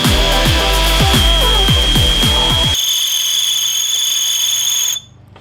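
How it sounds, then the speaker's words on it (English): A power drill bores through a hardened steel Sawzall blade, giving a loud, sustained high-pitched metallic whine with grinding pulses in the first half, then a steadier screech that cuts off abruptly near the end. "That is the sound of drilling through hardened steel"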